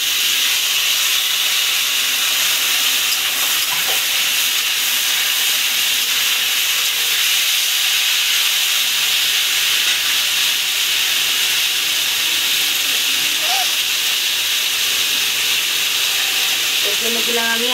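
Chopped vegetables for a chochori of jackfruit seeds, potato and amaranth greens sizzle steadily in hot oil, a dense continuous hiss that holds at close range for the whole stretch, with faint scrapes here and there and no talking.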